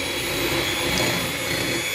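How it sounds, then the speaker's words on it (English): An electric mixer whisks egg whites for a lemon meringue pie, a loud, steady whirring drone that runs unbroken and close throughout, with no talking. "So I'm going to start whisking the egg whites up first."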